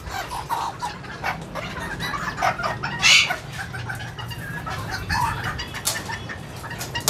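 Small Serama bantam chickens, including chicks, cluck and chirp in a cramped indoor pen, with short overlapping calls throughout and one louder squawk near the middle over steady low background hum.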